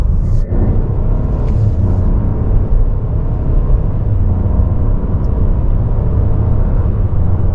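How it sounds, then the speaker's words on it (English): Small-displacement turbocharged three-cylinder engine of a 2025 Buick Encore GX Preferred AWD crossover, working under load with a nine-speed automatic, heard as a steady low droning rumble with road and cabin noise throughout, no speech. "the Turbo 3 is going to be noisy under load because it is a small displacement engine"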